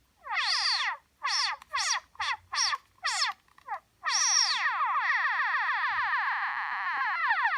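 Korg Monotron analog synthesizer with filter cutoff and peak swept, giving a run of short, loud, resonant warbling bursts separated by brief gaps, then one long sustained whining tone.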